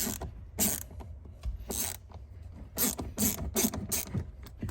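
A ratcheting hand tool turns a T20 Torx screw out of a 2020–22 Nissan Sentra during airbag module work, producing repeated close clicking bursts in a steady back-and-forth rhythm.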